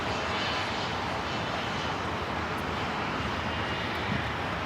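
A Cessna 560 XL Citation business jet on approach to land at Los Angeles, a loud, steady broadband engine roar filling the whole stretch without any talk.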